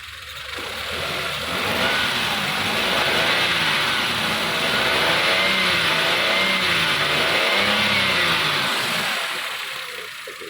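A used car's engine runs close by, revving up and down in smooth repeated swells over a steady rumble, with no voices.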